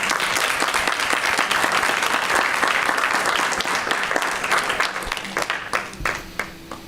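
Audience at a school board meeting breaks into sustained, dense clapping that fills the room, then thins into scattered claps as it dies down near the end.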